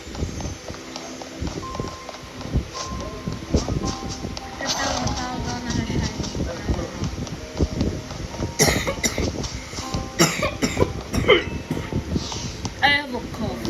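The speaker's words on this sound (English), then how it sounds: "I have a cough from eating too many of the coffee candies" A person coughs several times in short bursts, close to the microphone, amid continuous video game sounds with rhythmic hoof-like footsteps and a voice talking.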